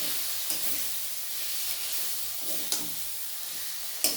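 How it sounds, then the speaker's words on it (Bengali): Potatoes with spices being stirred in a hot pan for a light eggplant, potato and fish curry, a steady sizzle with occasional soft scrapes and clinks of the spoon, close, no voices. "মশলার সঙ্গে আলুর সঙ্গে আমি আবার একটু নাড়িয়ে চাড়িয়ে নেব।"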